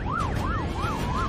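An ambulance siren wails, rising and falling in a steady repeating sweep, loud and close, with road rumble underneath, in Australia.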